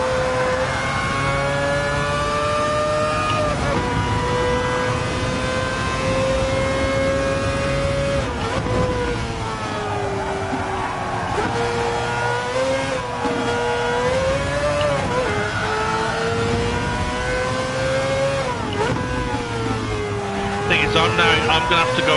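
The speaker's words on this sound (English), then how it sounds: "I love the sound this car makes." A race car engine in a racing video game at Spa, revving hard and loud throughout with rising and falling pitch through gear changes, under occasional talk.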